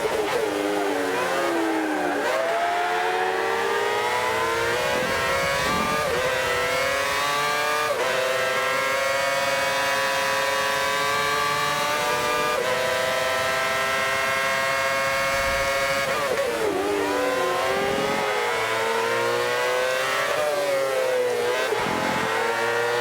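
Formula racing cars in a Forza race at the German GP during qualifying scream continuously at high revs, pitch climbing through gears and dipping for corners, with the engine drone loud and steady throughout.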